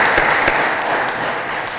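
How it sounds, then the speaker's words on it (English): Audience applauding at a police auxiliary force's 75th anniversary ceremony in Yonkers: steady, dense clapping from a crowd throughout, fairly loud with no talking over it. "Let's have a round of applause for you."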